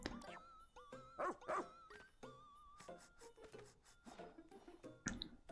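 Pikmin 4 pup tracks a scent: a string of short, close sniffs, high whimpers and yips in uneven bursts, fairly quiet overall, with no one talking.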